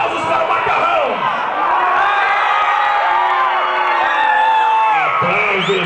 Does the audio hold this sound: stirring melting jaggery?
no